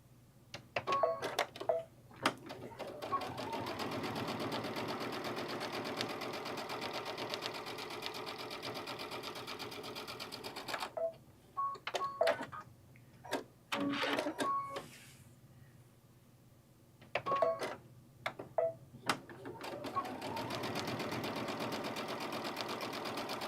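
A sewing machine stitches quilting on a bucket bag in long continuous runs, with short breaks between runs filled by clicks and handling noises, up close and with no talk.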